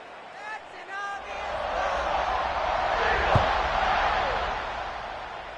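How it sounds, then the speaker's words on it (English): A college football stadium crowd buzzes after a score, a broad, steady roar building slightly and swelling near the middle, with a sharp thud and some shouts early on. "this crowd is buzzing after that last score"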